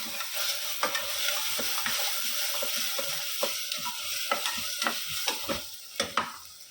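Garlic-chili paste being stirred into dal palak with potato in a sizzling pan, a spoon scraping in irregular strokes over a steady frying hiss, close and alone.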